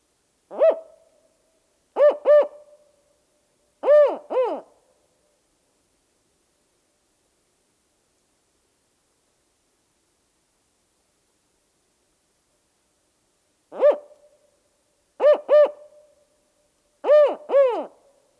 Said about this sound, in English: Spotted Owl. What do you sound like, Spotted Owl?